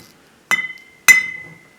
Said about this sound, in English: I just love the sound of the clinking of the beer